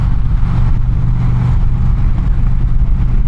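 Stock Indian Challenger motorcycle engine pulling hard under acceleration, a loud, close, continuous low rumble that holds steady throughout, with no talk.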